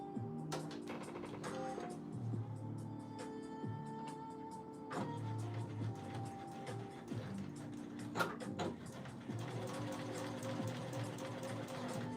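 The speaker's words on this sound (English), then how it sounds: "I'm gonna stitch this on" A sewing machine stitching fabric for a shirt, running in steady whirring bursts with rhythmic needle ticking and brief pauses between runs, close and fairly quiet.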